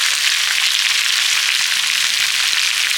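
Amla pickle frying steadily in a pan with salt and turmeric, a dense, continuous close sizzle with no pauses and no talking.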